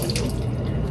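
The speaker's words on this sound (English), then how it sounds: "I'm just going to strain my beans" Liquid from canned chickpeas pours through a strainer in a brief, steady rush of splashing water.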